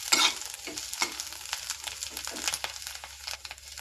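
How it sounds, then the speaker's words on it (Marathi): Vegetables fry in hot oil while being stirred, a close, steady sizzle broken by scraping spoon strokes against the pan. "आता आपण हे फ्राय केलंय."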